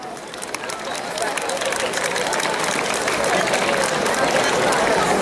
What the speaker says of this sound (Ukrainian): Ще раз оплески